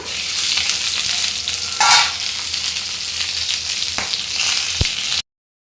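Chili peppers fry loudly in an uncovered pan, giving a steady close-up sizzle with a few stirring clatters and a sharp clink near the end before it cuts off.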